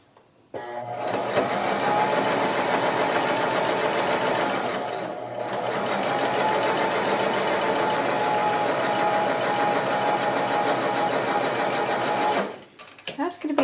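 A sewing machine runs in one long steady burst while stitching a quilt test block, briefly slowing midway before stopping near the end; close and loud, alone without talk.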